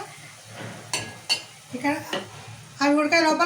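Onion, chili and tomato cook in hot oil in a pan, with a soft steady sizzle broken by stirring scrapes and clinks of a utensil against the metal, growing louder near the end.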